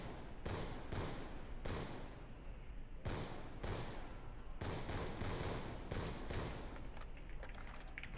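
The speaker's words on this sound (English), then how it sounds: "let's take a trip down the candy street here, and I will shoot all your heads off again" Rapid sniper rifle shots fired at zombies in the Call of Duty zombies map Buried, loud sharp reports repeating about every half second to second in an irregular rhythm over continuous game noise.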